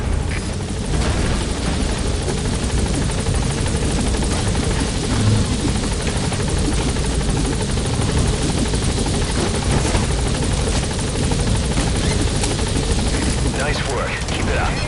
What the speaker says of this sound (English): choppers touching down. Don't waste any time getting on board.